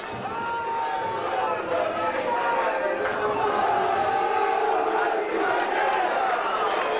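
Rugby league supporters of Workington Town in a 2002 match against Whitehaven sing and cheer in the stands, a loud, continuous mass of chanting voices with rising and falling melodic swells across the whole stretch.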